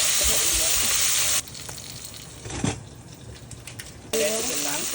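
Vegetables browning in a dry pan with no oil, for Ethiopian atakilt wat of cabbage, potato and carrot: a steady close sizzle that drops away in the middle and then returns, with a brief clatter between.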